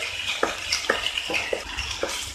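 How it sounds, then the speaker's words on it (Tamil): Onions with ginger garlic paste sautéing in a pan for home-style Tamil chicken varuval. Steady sizzling runs throughout, and a spoon stirs and scrapes with regular strokes about twice a second, close by and with no voices. "இப்போ இதில் நம்ம இந்த இஞ்சி பூண்டு விழுது சேர்த்திடலாம். இதையும் நல்லா வதக்கி விட்டுருங்க."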